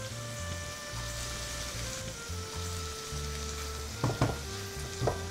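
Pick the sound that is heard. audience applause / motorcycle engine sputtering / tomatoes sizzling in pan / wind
tomatoes sizzling in pan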